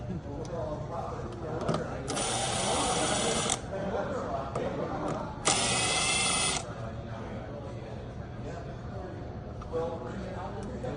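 Screws are driven into the EcoPort socket panel on an American Standard heat pump water heater, two bursts of a whirring electric driver, close, with someone talking over and between them.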